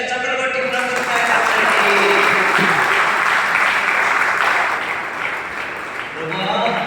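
A church congregation claps loudly and steadily for several seconds during a worship service. A speaker's voice is audible over the applause at the start and again near the end.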